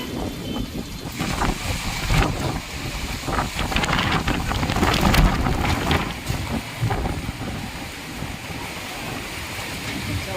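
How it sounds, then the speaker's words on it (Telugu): Steady rain falls outdoors as wind starts to pick up, a loud continuous hiss of drops with gusts swelling and easing, and no one talking. "ఆ తర్వాత ఎలా వర్షం పడుతుందో కూడా మీకు చూపిస్తా చూడండి మెల్లిగా గాలు అయితే స్టార్ట్ అయినాయి వాయిస్ ఓవర్ లేకుండా ఒకసారి అయితే వినండి"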